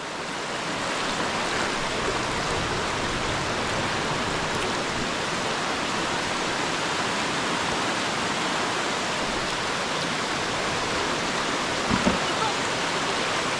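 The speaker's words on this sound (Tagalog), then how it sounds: "lakas ng ulan" Steady, dense roar of heavy rain pouring down in a forest, a constant hiss with no break, and a brief knock near the end.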